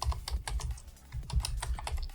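A placeholder being typed on a computer keyboard while building a WordPress footer form with the Astra theme, a quick, steady patter of close, crisp keystrokes with no talking.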